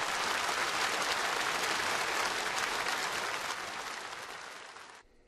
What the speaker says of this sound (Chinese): 全场响起长时间的热烈掌声